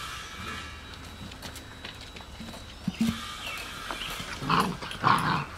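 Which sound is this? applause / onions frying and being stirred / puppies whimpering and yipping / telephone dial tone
puppies whimpering and yipping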